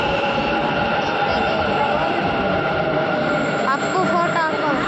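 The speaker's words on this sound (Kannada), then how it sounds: "ಮೆಟ್ರೋ ಬಂತು" A metro train pulls into a station platform, giving a steady rumbling roar with rising tonal whines near the end, while people talk nearby.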